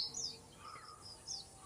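A bird calling on a mountain, several short high chirps in a few bursts, faint and thin against windy outdoor air.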